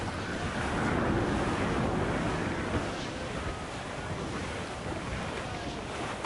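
Stormy open sea in Assassin's Creed IV: Black Flag, with waves crashing and heavy wind roaring in a dense, continuous wash around a sailing ship, loud and steady without pause.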